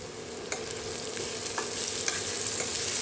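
Potatoes and peas crackle as they roast in a hot pan, with a soft continuous sizzle broken by a few sharp scrapes of a spoon stirring through them, close and moderately loud with no voices.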